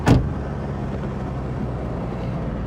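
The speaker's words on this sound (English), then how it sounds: "She closed her car door and then drove off without answering anything." A car door shuts with one loud, sharp thud, and then a steady engine rumble follows as the car pulls away, holding fairly even and close for the remaining seconds.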